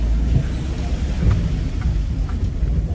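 Heavy rain lashing down on a building site during a miserable day, a loud, steady broadband roar with a deep rumbling low end, continuous and alone with no talk.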